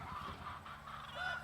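Chickens foraging in a rotationally grazed garden pasture give brief, faint honking clucks, several short calls in quick succession with no voices.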